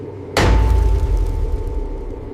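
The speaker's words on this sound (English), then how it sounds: "A powerful forging hammer, or hydraulic press, descends repeatedly, shaping the billet with immense force." A single heavy forging hammer blow on a steel billet in a modern bearing forging factory, a sudden loud thud followed by a lingering resonant ring and factory rumble.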